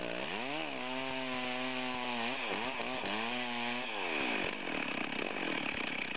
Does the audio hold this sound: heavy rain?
no